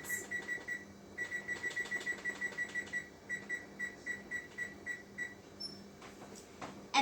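A kitchen timer gives a steady series of short electronic beeps in quick pairs, repeating evenly for several seconds, fairly faint, with a brief pause partway through.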